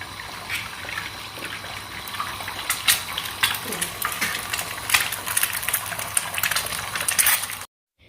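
An egg fries in a pan over a high flame, giving a steady crackling, spitting sizzle with sharper pops that stay up close and fairly loud before cutting off abruptly.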